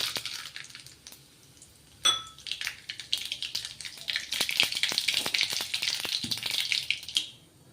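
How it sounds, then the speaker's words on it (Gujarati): Mustard seeds and cumin hit hot oil for a tempering, bursting into a loud, crackling sizzle with sharp popping bursts that build and continue steadily, close up and without talk. "સૌપ્રથમ રાઈ અને જીરું એડ કરીશું."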